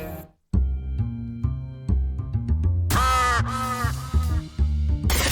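In the video game Shadows Over Loathing, a giant crow gives a harsh, drawn-out caw partway through, rising over an ongoing stepped game music score with short bursts of noise.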